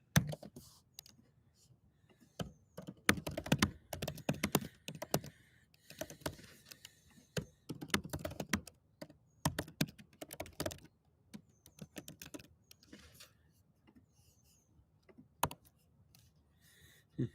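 Fingers type on a computer keyboard while writing code, clattering in quick uneven bursts separated by short pauses, close and clear.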